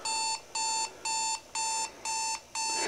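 An alarm clock beeps in six evenly spaced bursts of bright, high electronic tones with short gaps between them, loud and close, with no talking over it.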